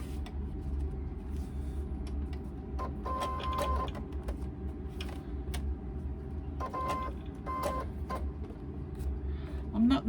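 A sewing machine stitches a short 1/8 inch row along the bottom of a laptop bag, a low mechanical whir joined by two bursts of rapid needle clatter, with faint speech in the background.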